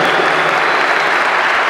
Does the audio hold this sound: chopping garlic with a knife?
no